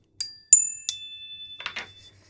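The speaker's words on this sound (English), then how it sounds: "one of them was the chime bell" Sampled chime bells sounding three bright ringing strikes in quick succession, each leaving a long shimmering tail, followed by two softer clustered jingles, close and clear with no talk.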